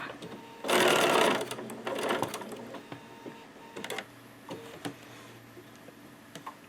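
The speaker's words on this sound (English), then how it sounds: "Line the fabric back up and start stitching." A quilting sewing machine stitches fabric in a loud, fast burst, then a second shorter run, followed by lighter clicks and handling taps as the fabric is repositioned; close and clear with no talk.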